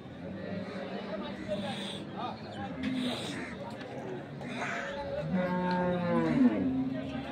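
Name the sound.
cow mooing at cattle market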